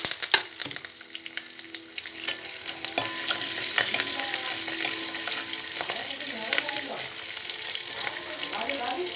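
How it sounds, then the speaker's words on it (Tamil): Fenugreek, cumin, dried red chillies and onions fry in hot oil in a pan for a fenugreek kuzhambu, a loud, steady close-up sizzle with occasional stirring scrapes. "வெந்தயம் நல்லா வருகட்டதும் ஜீரகம் போட்டுடலாம் வரமிளகாயும் போட்டுருவோம் வெங்காயம் போட்டுடலாம்"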